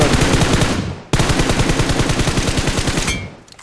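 Video game gunfire rattles in two loud, rapid automatic bursts, the first cutting off briefly before the second runs on and fades.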